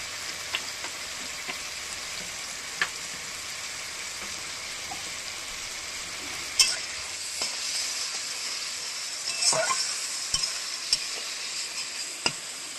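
Banana flower being stir-fried with spice water in a pan, a steady sizzle and hiss with occasional clicks and scraping stirs, moderately loud and with no talking.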